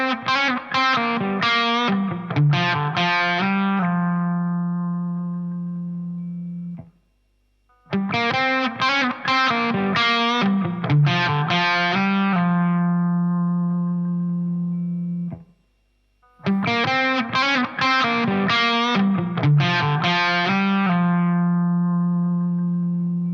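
Electric guitar played through a TC Electronic Cinders overdrive pedal with the drive turned up, repeating a chord-and-riff phrase three times with brief gaps, sustained crunchy tone with ringing notes.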